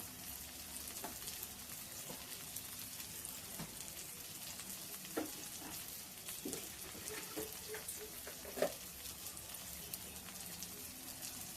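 Ginger garlic paste with turmeric and salt frying in a pan for a Telugu ridge gourd curry, giving a steady soft sizzle with occasional small pops and crackles, close and alone with no talk.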